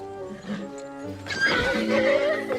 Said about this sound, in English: Oh, we killed the Damn horse